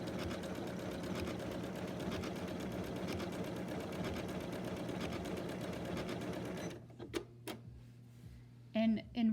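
A Janome sewing machine with a satin foot stitches at full speed in a fast, steady mechanical whir for several seconds, then stops, leaving a quiet room with a few clicks and a voice speaking briefly.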